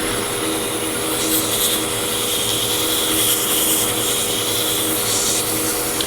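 Sandpaper rubs steadily against a spinning segmented wooden Christmas ornament on a lathe, working through finer grits up to 600: a continuous, even hiss with a faint motor hum underneath, close and unbroken.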